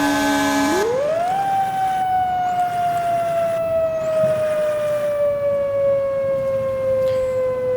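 A mechanical-style siren on a fire truck in the game EmergeNYC winds up from a low horn-like tone to a high steady wail, holding loud and close for several seconds.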